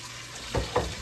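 Water is poured into the bottom of a roasting pan holding a 5-pound whole duck, heard as two brief, close splashing bursts over a quiet room background.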